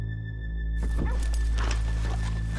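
Horses in Red Dead Redemption 2 clop and snort close by on a town street, a brief burst of hoof movement and a whinny-like snort over a steady low background hum.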